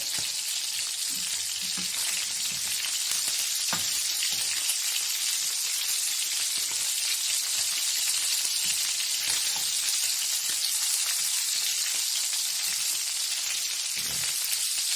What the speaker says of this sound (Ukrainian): З одної сторони припечу трошки, з другої сторони припечу його тако.